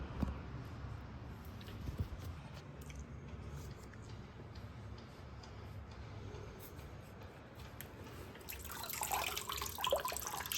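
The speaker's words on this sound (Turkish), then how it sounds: "Şöyle suyun süzülmesi yeterli." Water trickling and draining through the roots of a potted orchid after watering, a steady close, wet splashing hiss that grows brighter and louder near the end.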